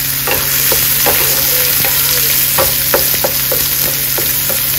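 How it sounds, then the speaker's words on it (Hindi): Chopped onions and curry leaves frying in a pan over a medium flame, a continuous close sizzle broken by repeated scraping clicks as the mixture is stirred, with no talk. "तो अभी इसको एक दो मिनट तक फ्राई कर लेंगे मीडियम फ्लेम पे"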